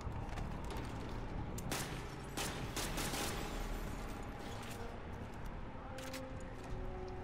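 Automatic weapon fire in Call of Duty Modern Warfare 2 sounds in rapid bursts and single sharp cracks over mechanical clatter and game ambience, fairly loud and close throughout.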